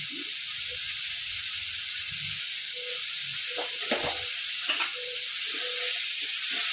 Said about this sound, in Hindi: मध्यमे आंच पर एकरा बढ़िया जकाँ भुजबाक छै